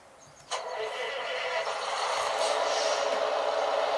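A vehicle engine in the Farming Simulator game cranks to life with a sudden burst, then settles into a steady, loud running drone that builds slightly over the following seconds, with no talking.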